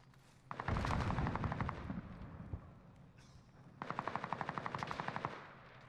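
Bren light machine gun in Call of Duty firing two sustained automatic bursts of rapid, evenly spaced shots, fairly loud and close, separated by a short pause.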